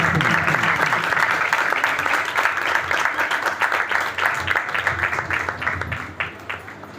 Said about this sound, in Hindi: आपकी भरपूर तालियां, जोरदार क्लैपिंग।